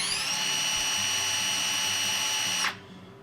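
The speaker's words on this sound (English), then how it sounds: "now drill speed" A Black Zero cordless drill whirs at high speed with a steady high-pitched whine, then stops abruptly near the end, leaving quiet hum.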